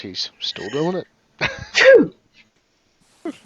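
A single sharp sneeze among a small group playing Blood on the Clocktower, loud and close, with people talking just before and a voice after.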